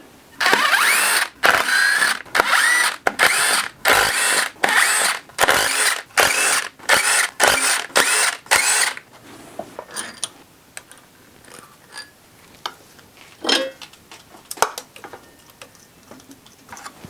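A power tool rattles in rapid repeated bursts while loosening the head bolts on a blown-up Chevy Cruze engine, loud and close, followed by quieter clicks and scrapes of metal parts being handled.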